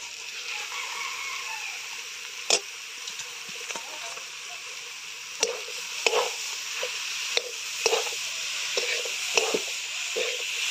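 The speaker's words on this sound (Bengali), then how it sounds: "এবার দিয়ে দিলাম সিদ্ধ করা বাঁধাকপিটা" Boiled cabbage frying with egg in a pan, a steady broad sizzle broken by occasional clacks and scrapes of stirring.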